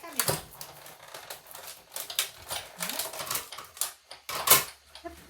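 A paper cutting machine cuts a Ferrero box template, making rapid rattling, tapping bursts in uneven runs. The sound stops and starts, with a soft voice in places.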